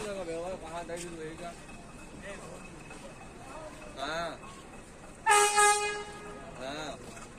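The last meter-gauge train departs Nepalganj Road station on the India–Nepal border, its horn sounding in loud sustained toots near the end amid station bustle, with someone talking over the scene.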